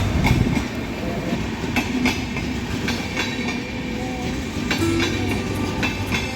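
A train's last compartment rolls past nearby at Pedana railway station, Krishna District, Andhra Pradesh, with a steady rumble and rhythmic clickety-clack of wheels over the rails, fairly loud throughout.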